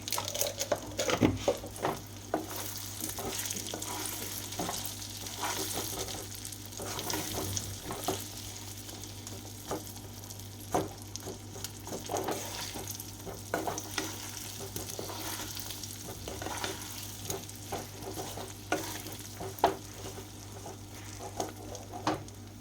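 Olive pickle being stirred in a pan with Kashmiri red chili powder produces a steady low sizzle with repeated scraping and clinking strokes of the spoon, close and without any talk.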